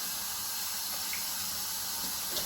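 Tap water runs steadily from a kitchen faucet into a pot of peeled potatoes at the sink, a continuous soft hiss and splash with no talking.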